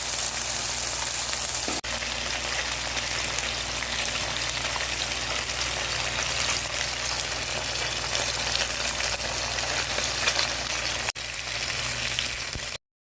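Fish frying in oil in a pan, a dense, steady crackling sizzle holding at an even level throughout, close and without speech.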